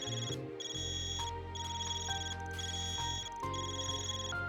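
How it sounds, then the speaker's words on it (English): A cellphone-style ringtone rings in the game Trails beyond the Horizon, a steady repeating electronic melody of bright tones over a low background music bed, continuing throughout. "your Jaifa's ringing? Why does it sound so weird though?"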